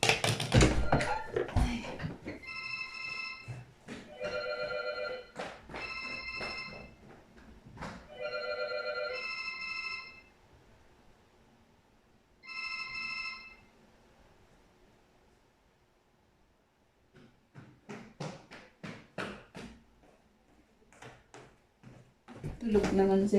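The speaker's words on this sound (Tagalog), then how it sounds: "may tumatawag." A telephone rings in repeated bursts of electronic trilling, moderately loud indoors, with a gap and then muffled handling and tapping sounds toward the end.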